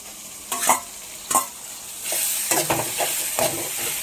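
Green chillies, coriander and curry leaves are stirred in a hot pan, with soft sizzling and several distinct scraping strokes of a spoon against the pan.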